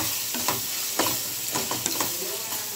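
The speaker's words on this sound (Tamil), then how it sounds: "நல்லா பச்சை வாசனை போகிற வரைக்கும் நல்லா வதக்கிக்கணும்" Ingredients sautéing in a pan for chicken gravy, a constant close sizzle punctuated by repeated clinks and scrapes of a stirring spoon.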